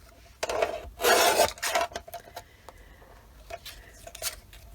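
Paper sheet being cut for a Christmas card project, heard as a few close rasping, scraping strokes with a louder burst in the first half, then quieter rubbing and small handling noises.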